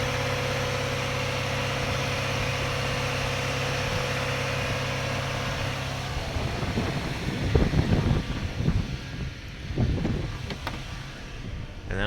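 GM 3.6 engine held at a steady 2,000 RPM by a scan tool during a valve de-carbon treatment, a constant close mid-pitched drone that turns rougher and more uneven in the second half with throaty surges and sputters.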